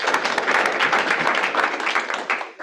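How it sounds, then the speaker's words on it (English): People at a team meeting give a brief, full round of applause, dense and fairly loud, tapering off at the very end. "So give yourselves a round of applause for being here."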